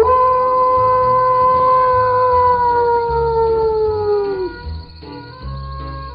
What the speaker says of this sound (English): this blue-colored jackal howled from where he was